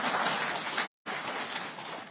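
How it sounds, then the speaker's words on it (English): An audience at a Kenyan government speech applauds with a dense, even wash of clapping. The applause breaks off for a moment, then resumes at a moderate level. "I thought you would clap."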